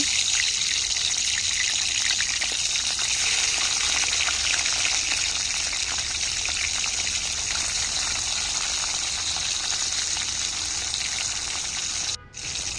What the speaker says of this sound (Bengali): কড়াইতে তেল দিয়ে টমেটোগুলো লাল লাল করে ভেজে নেব